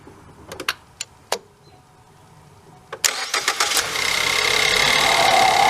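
A car engine catches and settles into a steady running idle after the hose area has been sprayed with brake cleaner. A few sharp clicks and knocks come first, then a near, continuous hum with a broadband hiss that stays loud to the end.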